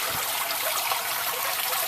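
Water trickles steadily through rows of 1/8-inch holes drilled in the floor of koi fry tubs, fed from a spray bar above, giving a continuous, close, even splashing hiss with no voices.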